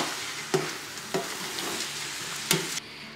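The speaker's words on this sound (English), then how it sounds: "I'm going to add the 2 bags of super sweet corn. And then we're going to stir." A spoon stirs pre-cooked super sweet corn in a sizzling pan, with three distinct scrapes and knocks against the pan over a continuous close frying hiss that drops away at the end.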